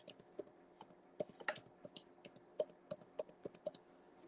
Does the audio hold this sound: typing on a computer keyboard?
yes